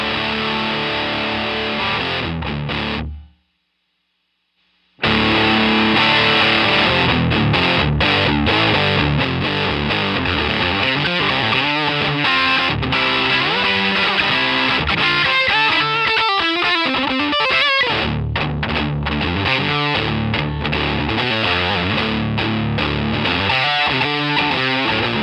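Electric guitar played through a Boss HM-2 Heavy Metal distortion pedal, thick buzzing chords and riffs that cut out briefly near the start, then return loud and saturated with a chainsaw-like edge.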